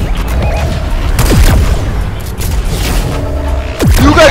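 Sharp gunfire cracks in a Fortnite Chapter 2 Season 7 match, a loud shot near the start and another near the end, over a steady rumble of game sound and ambient noise.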